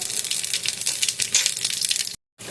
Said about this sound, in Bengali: ওই তেলেই আমি এবার একটু পাঁচ ফোড়ন ফোড়ন দেবো